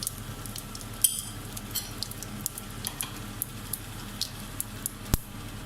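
Mustard seeds crackle and pop in hot oil for apple pickle, a steady faint sizzle with scattered sharp bursts and one louder snap near the end.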